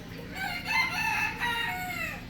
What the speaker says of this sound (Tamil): அது என்ன சேவலா? சேவல் தான்.